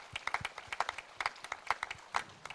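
Scattered clapping from a modest conference audience welcoming a guest, quiet and sparse, with individual claps audible in an uneven patter that thins toward the end.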